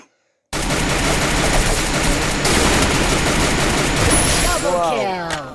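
Gunfire in a mobile battle royale game: a dense, continuous burst of rapid shots begins abruptly after a brief silence and runs loud for several seconds, ending with rising electronic sweeps.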